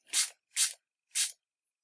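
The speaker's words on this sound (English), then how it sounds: "when I spritz it with water, which on a dry piece of paper I will do from quite a height" Three quick, evenly spaced spritzes from a spray bottle misting water onto Brusho crystals on dry paper, each a short airy hiss with a brief pause between, fairly close and alone.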